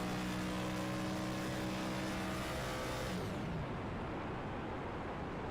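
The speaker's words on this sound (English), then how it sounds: "the revs drop all the way down as he just fully shuts the car off" A loud, buzzy video game race car engine at Texas Motor Speedway holds high revs, then the pitch drops sharply as the car is shut off and revs fall away to a lower rumble.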